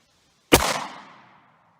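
A single 9mm 115 gr round is fired over a chronograph from about five feet away, one sharp loud report with a short decaying tail, alone.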